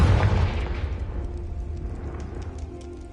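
A Confringo spell explosion in the Hogwarts Legacy video game: one loud, deep boom at the start that decays into a rumbling tail, with faint crackles lingering afterward.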